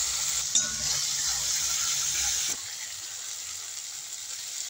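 A steady hiss and sizzle of spice paste frying in hot oil, loud at first, then dropping to a quieter crackle partway through.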